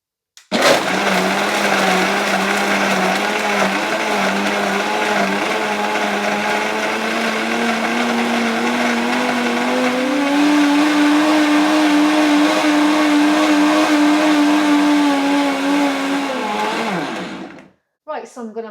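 A FIMEI professional blender runs at full power crushing a large cup of ice, a loud continuous motor whine that rises in pitch midway and then cuts off abruptly.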